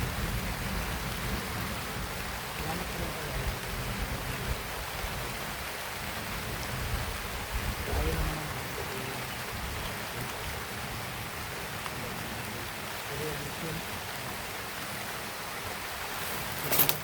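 Heavy rain pours steadily, a dense, continuous hiss of drops drumming on surfaces, with a faint thud near the middle and a short knock at the very end, no voices.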